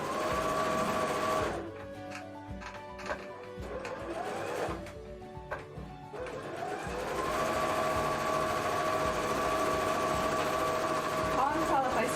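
A sewing machine stitches fabric for a Honkai Star Rail cosplay costume, its motor whirring in a fast, steady drone that stops in the middle and then runs on again.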